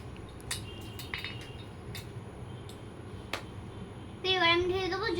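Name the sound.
toy cooking pot being placed and handled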